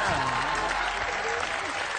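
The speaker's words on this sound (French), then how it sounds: "Et on applaudit Rocky." Studio audience applauding on a French television variety show with a hypnotist, a dense continuous clapping with a voice talking over it.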